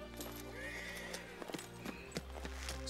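Horse whinnies in a medieval king's camp, a clear neigh rising near the start amid faint hoof clops and scattered thumps, with no talking over it.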